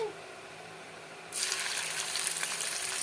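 Chopped onion dropped into hot oil tempered with nigella seeds in a pan sets off a sudden loud, steady sizzle that replaces the quieter background and carries on without a break.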